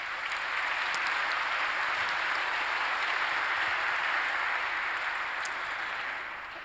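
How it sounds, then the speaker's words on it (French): Audience applause at a French conference, a steady, dense wash of clapping from a crowd that holds evenly for several seconds before starting to fade at the end. "je crois qu'on peut vous applaudir pour tous ces témoignages"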